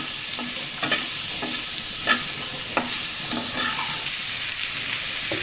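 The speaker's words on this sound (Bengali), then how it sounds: "ভালো করে মশলাগুলো জড়িয়ে গায়ে, তারপর সময় নিয়ে একটু ভেজে নিতে হবে।" Small fish and green tomato frying with spices: a loud, constant, hissy sizzle fills the pan, with intermittent spatula scrapes and taps through it and no voices.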